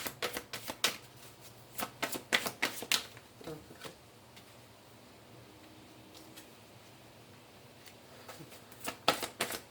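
Tarot cards being shuffled and drawn: quick bursts of crisp riffling snaps at close range, then a quieter stretch with faint rustles before another flurry of shuffling.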